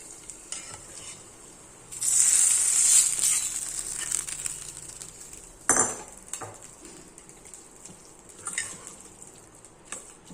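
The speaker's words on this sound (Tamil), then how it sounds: "கருவேப்பிலை ஜஸ்ட்டு பொரிஞ்சால் போதும் ரொம்ப வந்து வதக்கணும் வேண்டாம்" Curry leaves and chilli splutter in hot oil in a pan, a loud crackling sizzle that flares up and then settles, with a spoon stirring and scraping and a sharp clatter midway.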